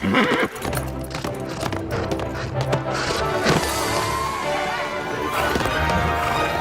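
Cartoon horse hooves clip-clop steadily through a show-jumping round, with neighing and a busy mix of music or effects running loud and dense throughout.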